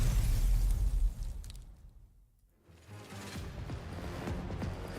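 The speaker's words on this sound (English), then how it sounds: "Once again, there's another deafening explosion." A deep, rumbling explosion in the Girls Frontline 2: Exilium video game booms loudly, fades briefly, then rolls back in as a low roar with crackling debris.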